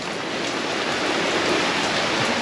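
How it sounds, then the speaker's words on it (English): Rain falling steadily on a boat at anchor during a storm, a dense, even hiss of drops that stays loud and unbroken throughout. "it's raining again"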